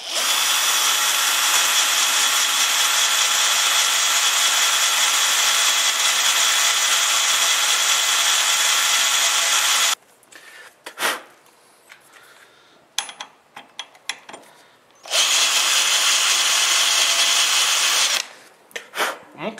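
Power drill boring out a corroded bolt head on a lathe chuck to fit an easy-out extractor: a loud continuous whine for about ten seconds, scattered clanks and handling noise, then the drill runs again briefly.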